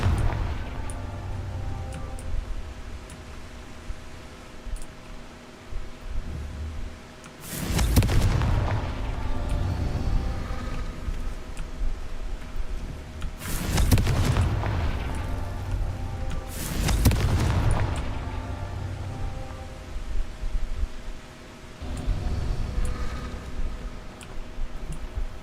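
Spell explosions from the Confringo fire curse in Hogwarts Legacy come as several loud, booming blasts spaced seconds apart over a low continuous ambient drone.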